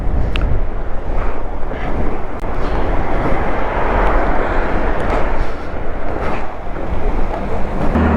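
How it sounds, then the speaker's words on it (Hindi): Strong wind near the Atal Tunnel in the mountains near Manali, a loud, continuous roaring rush buffeting the microphone with gusty surges, no talking heard. "यहाँ पे हवा काफ़ी तेज़ है।"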